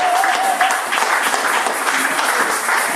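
A church congregation applauds during a worship service, a loud, close, steady wash of dense clapping that runs unbroken for the whole stretch.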